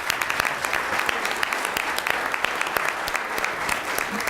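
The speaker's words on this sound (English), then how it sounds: "And I want another round of applause just for their bravery." Audience at a mayoral candidates' forum breaking into applause, dense sustained clapping from a roomful of people, moderately loud and continuous throughout.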